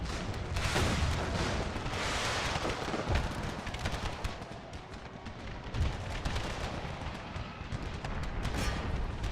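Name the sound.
artillery cannon fire in video game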